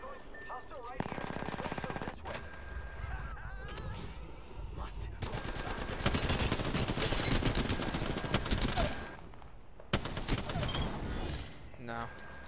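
Sustained rapid automatic fire from a Spitfire light machine gun in a multiplayer shooter game, long dense loud bursts with brief gaps, while a voice talks over parts of it.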